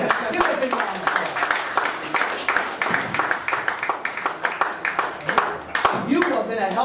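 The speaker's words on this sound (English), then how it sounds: "Give her a big round of applause." Scattered clapping from a small audience at a magic show in a lounge, rhythmic and close, running under a performer's talking throughout.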